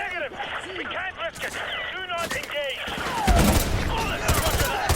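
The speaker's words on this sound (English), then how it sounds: "They're shooting through the walls at me." Gunfire in Modern Warfare 2 as shots punch through walls, a dense fusillade of rapid cracks and bursts with a heavy explosive-like thump midway, loud and close, mixed with game sounds and someone talking.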